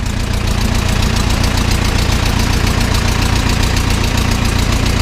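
An old Zetor 7711 tractor engine runs loud and close, idling with a steady rough knocking rhythm throughout.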